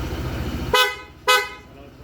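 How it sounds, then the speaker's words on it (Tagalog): Two short, loud horn honks in quick succession from an ADV 160, following a steady engine rumble. "Tapos, busina."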